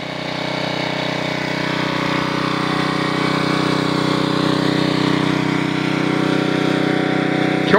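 A Generac 750 watt portable generator runs with its small engine buzzing steadily and loudly at a constant pitch, close up and uninterrupted, with no voices.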